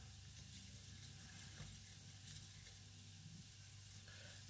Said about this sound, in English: If you hear the sound of cooking in the background, that's onions for my lasagna for tonight.